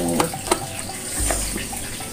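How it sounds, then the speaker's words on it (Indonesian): Karedok, an Indonesian raw vegetable salad, being stirred and tossed in a bowl, with a few short clattering scrapes and a soft swishing rustle close by. "kita aduk aduk dan aduk gitu ya"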